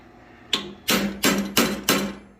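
A hammer drives a 1/8 inch ball punch into metal in a blacksmith forge, five sharp ringing strikes in an even rhythm, close and loud with no talk.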